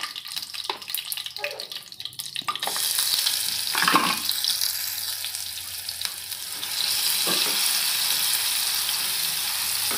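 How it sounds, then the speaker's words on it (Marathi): Ground masala paste with curry leaves hitting hot oil in a pan, starting with a few stirs and scrapes before a loud, steady close sizzle of frying that swells again near the end, with no talk. "एखाद मिनिटभर भाजून घेऊया चांगलं"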